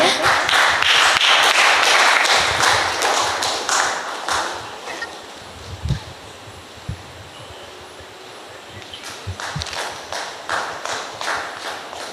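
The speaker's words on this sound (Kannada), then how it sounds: "ಚಪ್ಪಾಳೆ." Audience applause at a Lions and Leo Club office-bearers' installation ceremony, loud dense clapping at first that fades to scattered claps, with a few louder taps and thumps nearby.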